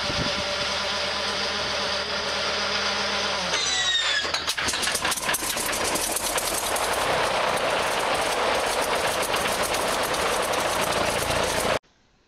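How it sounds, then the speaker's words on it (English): An Antonov AN-2 biplane's radial engine starts and runs up for balancing, a whining crank giving way to a loud, steady rumbling roar that holds close and constant before cutting off abruptly at the end. "Here we see RPX co-founder Matt Dock sitting inside the AN-2 during the initial balancing run-up."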